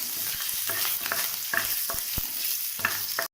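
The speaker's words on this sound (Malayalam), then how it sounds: "ഈ ഒന്ന് ലോ ഫ്ലെയിമിലാക്കിയിട്ട് പതുക്കെ ഇളക്കി കൊടുക്കാം" Curry leaves and green chillies sizzle in oil in a pan on low flame for a mango pickle, with a steady hiss broken by several scraping stirs, close and fairly loud, no talking.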